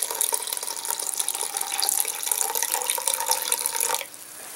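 Cold water runs from a kitchen tap into a measuring cup being filled to 1.5 cups, a steady splashing hiss for about four seconds that cuts off abruptly, leaving a faint room tone.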